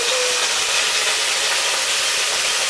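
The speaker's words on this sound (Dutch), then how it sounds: "Hij spettert een beetje." Chicken tandoori spatters and sizzles in a hot pan on the stove, cooked by a five-year-old child. It makes a loud, steady frying hiss with no break and no talking.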